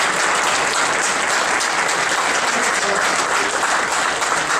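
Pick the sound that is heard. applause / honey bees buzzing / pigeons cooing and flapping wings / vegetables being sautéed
applause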